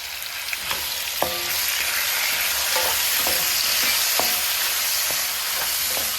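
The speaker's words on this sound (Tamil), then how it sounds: "தக்காளி வதங்கியாச்சு." Onion and tomato sauté in a pan for a pirandai thogayal, a constant close sizzle and hiss broken by irregular clinks and scrapes of a spoon stirring against the pan.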